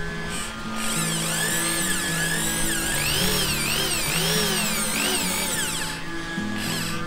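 A power drill bores a 5 mm hole through the hull of an Amel 54 sailboat, a continuous whining motor with rising and falling pitch sweeps as the bit cuts, loud and close throughout.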